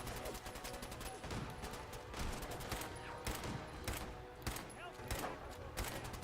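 Repeated gunfire from a rifle in Fallout 4, a rapid string of sharp shots mixed with game sounds and background music, fairly loud and sustained throughout.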